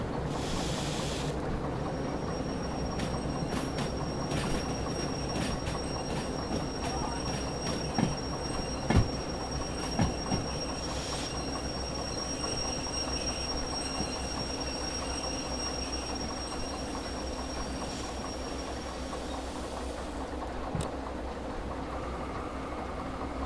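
Railroad cars roll slowly during a shunting move, with sustained wheel squeal, scattered metallic clanks and thumps over a steady rumbling bed of rolling stock noise.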